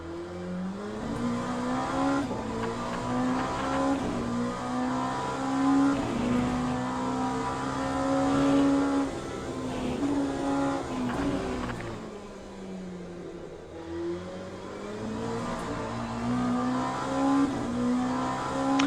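A Cadillac hypercar races in the Le Mans Ultimate sim, its engine note rising and falling steadily as it revs through gears while overtaking, loud and continuous with no talk.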